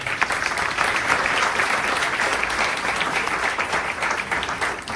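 An audience at a church ministry gathering breaks into sustained applause, a thick wash of many hands clapping evenly, fairly loud and continuous with no talking over it.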